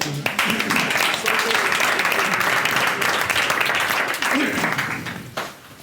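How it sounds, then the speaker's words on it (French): An audience at a theatre-forum performance gives a round of clapping, broad and sustained, with some voices underneath, tapering off at the end. "on l'applaudit"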